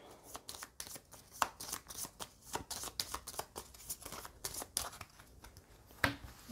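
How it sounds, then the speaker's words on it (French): Playing cards in a Goldblivion board game being shuffled back into a hand, giving a run of quick, close, papery riffles and flicks in an uneven rhythm, with no speech. "Je remélange mes cartes à ma main"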